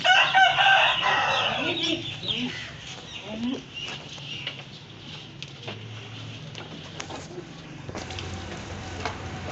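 Chickens cluck and squawk close by, busiest at the start, then settle into scattered soft clucks over a faint background hiss.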